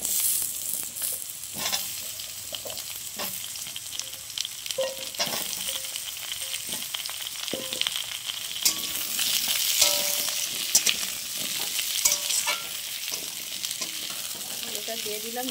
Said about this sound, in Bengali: এবার আমি এর মধ্যে আলুটা দিয়ে দিলাম।